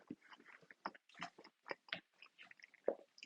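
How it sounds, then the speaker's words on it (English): A person chews a banana close to the microphone in quiet, soft, irregular bursts of wet mouth sounds and bites. "If you hear chewing, that's me eating a banana."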